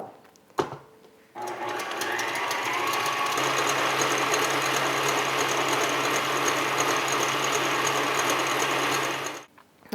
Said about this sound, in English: I'll first whip the cream, and while I'm whipping it, I will put in some stabilizer